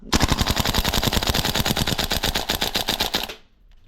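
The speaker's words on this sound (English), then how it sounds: "So I'm gonna fire from the hip, but I'm gonna try and hit center mass" VFC MK18 V3 gas blowback airsoft rifle fired from the hip in a rapid mag dump, a fast, evenly spaced string of sharp, loud cracks lasting about three seconds before stopping abruptly.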